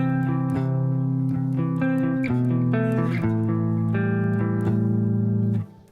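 A guitar plays a sequence of modern metal chords, their rich sustained tones changing every half second or so before a final chord rings and cuts off. The sound is steady and fairly close, with no one talking.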